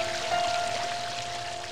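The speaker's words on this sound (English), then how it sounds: "The lyrical song of water at play in a custom-designed fountain." Water splashes and pours steadily in a custom-designed fountain, a soft continuous hiss and patter with a faint tonal hum underneath.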